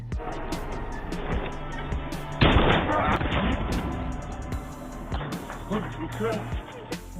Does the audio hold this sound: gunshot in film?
yes